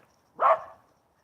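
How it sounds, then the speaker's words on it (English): A single dog bark or yelp, short and fairly distant, standing out against a quiet background. "there was a dog."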